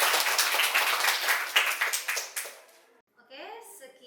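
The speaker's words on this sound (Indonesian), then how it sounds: "Kita sama-sama beri aplaus." A classroom breaks into applause, a dense burst of many hands clapping together that fades out after a few seconds, followed by a voice speaking.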